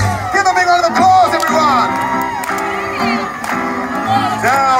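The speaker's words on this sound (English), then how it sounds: "Give them a big round of applause" A crowd at an Alton Towers Mardi Gras show cheers and claps loudly over a steady ongoing din, with shouts and whoops rising above the mix and a voice calling out across the crowd.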